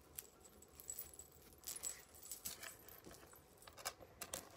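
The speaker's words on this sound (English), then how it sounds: "Now we're going to put on my bracelets." Metal bracelets jangling and clinking as they are slipped on one after another, a run of light, bright jingles and taps close by with no talking.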